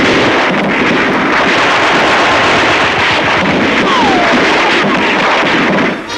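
Gunfire during street fighting in Cherbourg in a wartime newsreel, dense crackling bursts and booms over a constant rough roar, loud and unbroken, with a narrator's voice partly mixed in.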